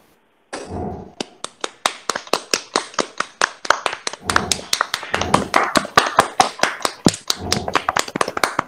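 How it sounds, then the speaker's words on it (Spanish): Hands clap after a talk on Bayesian machine learning, a sharp, close, irregular run of individual claps that starts abruptly and continues steadily with few overlaps, suggesting a small group. "todos están aplaudiendo"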